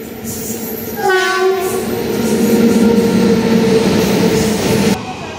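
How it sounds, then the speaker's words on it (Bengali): A mail train roars past close by, its horn sounding in a long blaring tone as the rumble of the carriages continues for several seconds. "ওই দেখ মেলটা চলে গেল"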